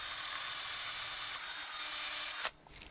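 A bit made from wire bores through wood with a steady, bright, hissing grind that holds evenly and then breaks off sharply as it finishes, followed by a few faint scrapes.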